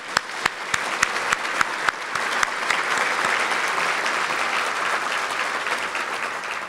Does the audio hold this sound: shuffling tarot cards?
no